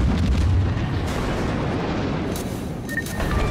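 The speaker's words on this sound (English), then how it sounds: "All stations, concentrate fire on the target." Heavy naval gun salvos from a USS New Orleans cruiser in the game World of Warships, a deep booming rumble up close followed by rolling echo, with no talk.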